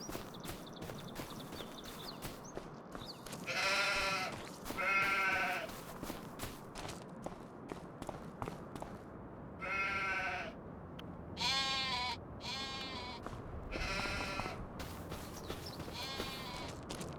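Sheep bleat on a farm in several loud, drawn-out calls spaced a few seconds apart, some overlapping, over a low background with faint clopping.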